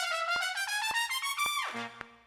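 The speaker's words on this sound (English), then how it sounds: "Brass fall, which sounds like this." A brass section holds a bright, sustained chord that drops sharply in a quick downward fall near the end, with light percussive hits along the way.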